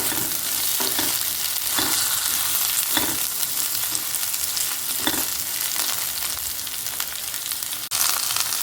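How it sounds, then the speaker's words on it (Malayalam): Okra sautéing in a pan over a medium gas flame, a steady loud sizzle with periodic scraping stirs of a spoon, continuous and close, without talk. "ഇനി ഒന്ന് നമുക്ക് നന്നായിട്ട് വഴറ്റിയെടുക്കാം കേട്ടോ കളറൊന്നും മാറണ്ട ഗ്യാസ് മീഡിയം ഫ്ലെയിമിൽ വെച്ചാൽ മതി"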